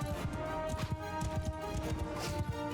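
Horse hooves gallop in the battle video game Mount & Blade II: Bannerlord, a busy run of quick, uneven thuds mixed with clatter and battle noise, moderately loud throughout.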